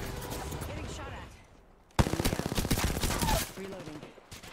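Automatic gunfire in Apex Legends, a burst of rapid shots starting abruptly and rattling on for a couple of seconds, fairly close and loud over game ambience.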